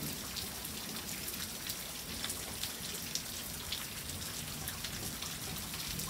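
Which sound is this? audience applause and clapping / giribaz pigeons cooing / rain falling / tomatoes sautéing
rain falling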